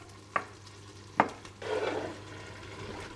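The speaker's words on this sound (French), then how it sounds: "À nouveau, on mélange bien." Eggplant and tomatoes are stirred in a cooking pot, with two sharp utensil knocks followed by a soft, close scraping and shuffling of the vegetables over a low steady background hum.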